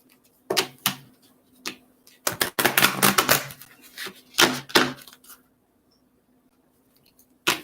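Tarot cards being shuffled by hand in bursts of crisp riffling and slapping, close and loud, separated by brief pauses, with no talk over them.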